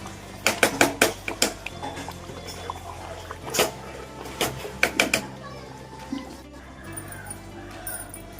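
A lid comes off a cooking pot of coconut rice with a burst of sharp metallic clanks and clatters, clustered in quick bursts early on and again later, over a faint kitchen background.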